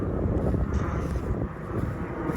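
An airplane passes overhead near a graveyard, a steady broad engine roar with some wind rumble that fills the whole stretch at moderate, distant loudness, with no talk.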